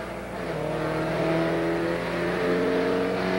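Inside a Porsche 944 race car during a 1986 Canadian Rothmans Porsche 944 series race, the engine holds a loud, steady high drone that swells gently as it pulls, with no voices.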